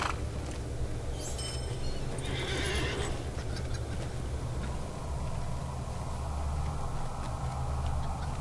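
A horse in The Lord of the Rings Online neighs and whinnies early on, then its hooves clip-clop steadily at close range through the rest of the ride as the in-game mount travels between stables, with no talking.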